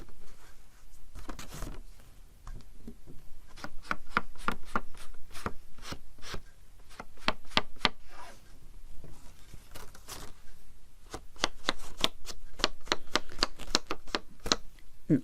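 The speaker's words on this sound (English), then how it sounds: "the popping noise you hear is because I'm inking it straight on the edge of the corner right here like that" Small sharp pops and dabs repeat unevenly and close up as ink is pressed straight onto the edge of a card corner while distressing vintage-style photo cards, with no talking.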